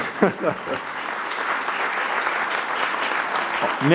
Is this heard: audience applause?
yes